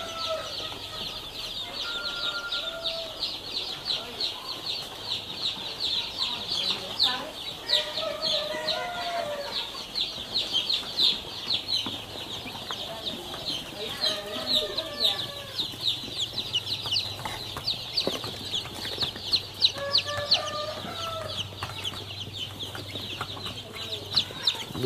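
Baby chicks in a heated brooder pen under a BMT brooding lamp cheep constantly in a dense, high chorus, with occasional lower clucking calls rising above it and a steady hum underneath.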